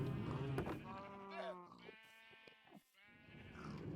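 Several sheep bleats from a farm video game with a big red barn, wavering and fairly close, one after another with brief gaps and light background clatter.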